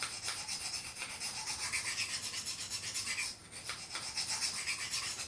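A blade edge is worked at a steady angle on a sharpening stone to raise a burr, giving a continuous close rasping scrape in repeated strokes with one brief pause.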